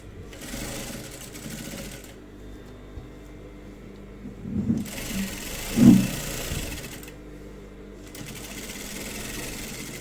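Bursts of a sewing machine stitching a fitting seam on a designer blouse, close and moderately loud, starting and stopping in short runs with handling noises in between.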